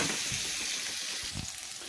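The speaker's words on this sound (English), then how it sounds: "Keep stirring your bacon." Bacon frying in a pan while it is stirred, giving a steady, close hiss of sizzling fat with soft scraping bumps of the stirring near the end, no voices.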